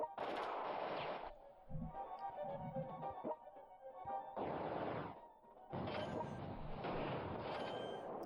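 Artillery fires in the World Conqueror 3 strategy game: loud booming blasts come in three long bursts with quieter thuds and crashes between them.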